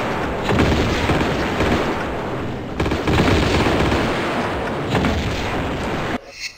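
A grenade launcher fires at enemies in Tomb Raider II, a loud dense barrage of booming blasts and explosions with a few sharp peaks, continuing almost without pause before cutting off.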